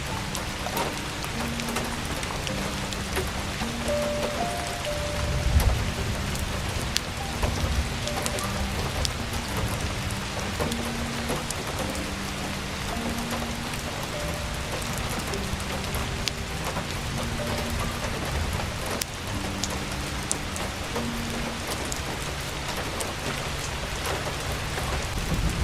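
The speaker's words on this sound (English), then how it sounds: "the way all good winter nights begin with rain on the window" Steady rain patters against a window on a winter night, with occasional distant thunder and a soft low musical drone beneath, continuous and even throughout.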